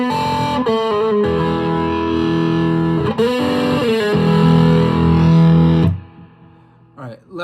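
An electric guitar runs through a Kingsley Mason tube pedal stacked into a Harlot pedal, playing loud, driven, crunchy chords and riffs for several seconds before a short quieter tail with a few picked notes.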